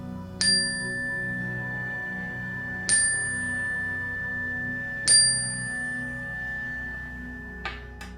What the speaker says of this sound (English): So I'm going to ring my chime, which signifies I'm going to begin the session.